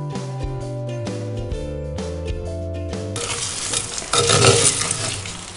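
Chinese potatoes (koorka) fry in a pan with onion, ginger and garlic. The stirring comes as scraping and clinks over a rising sizzle that grows louder near the end, following some music.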